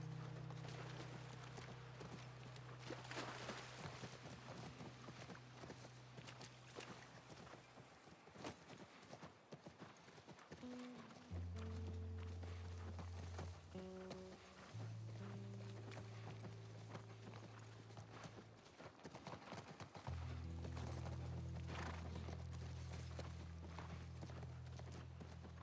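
Horse hooves clip-clop steadily in The Last of Us video game, a continuous rhythmic walking beat heard under sustained musical and ambient game tones.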